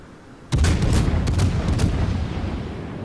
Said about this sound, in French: Tout le monde tire d'ailleurs sur le Bismarck.